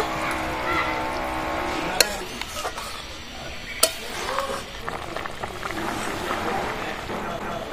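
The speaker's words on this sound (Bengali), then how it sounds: "মগজ আর কাজু বাটা দিয়ে দিচ্ছি, নাড়াচাড়া করে দেবো।" Melon seed and cashew paste stirred into a village-style bata fish curry with mustard and poppy seed, giving a steady soft scraping and bubbling texture broken by two sharp utensil clinks against the pan.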